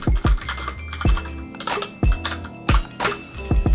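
Mechanical keyboard keys struck in short irregular bursts, close and crisp, with sharp clacks and low thocks from the switches, separated by brief pauses and no talking.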